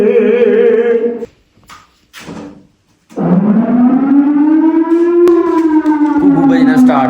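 A civil defense siren sounds across a village to wake people for Sehri during Ramadan: a loud, sustained wail that breaks off briefly, then returns and slowly rises in pitch before holding steady.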